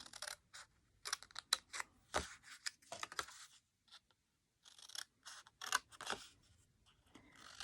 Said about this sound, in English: we need to make a little cut line and then cut this section away